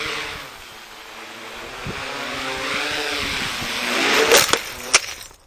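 A Yuneec Q500 quadcopter drone climbing in light wind, its propellers giving a steady whine that rises and shifts in pitch, ending in a few sharp knocks.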